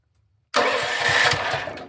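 A Champion small engine cranks over abruptly after a moment of silence, turning steadily and loudly with a rapid, rhythmic chugging that fades slightly toward the end.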